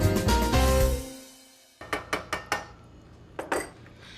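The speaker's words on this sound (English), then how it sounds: "We'll give it a good stir" A spoon clinking against the metal side of a pot while tomato sauce is stirred, a quick run of four sharp taps and then two more, after a louder opening burst.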